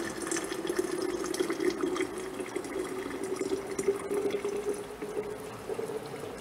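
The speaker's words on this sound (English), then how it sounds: "So, let's get this into the mason jar." Hot homemade corn syrup substitute is poured into a glass mason jar, making a steady, close liquid trickle and splash that runs unbroken for several seconds, with no talking.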